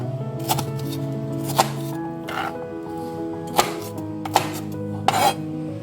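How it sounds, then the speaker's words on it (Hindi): Knife cutting a yellow bell pepper into cubes on a board, a few sharp separate chops and taps scattered over a steady low background hum. "ये येलो शिमला मिर्च है, इसको भी इसी तरह स्लाइसेस कर लेंगे हम।"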